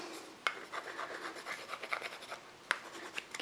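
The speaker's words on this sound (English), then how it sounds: "Give it a good burnishing all the way around." A burnishing tool rubs copper foil wrapped around a stained glass piece for a kaleidoscope, making soft, close rasping strokes with a few sharper ticks. The sound stays quiet throughout.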